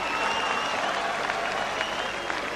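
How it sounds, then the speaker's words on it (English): A boxing arena crowd applauding between rounds of a professional fight, a dense, steady wash of clapping from many people, moderately loud and even, with some faint talk underneath. "you can just kind of tell by the way the crowd applauds after each round"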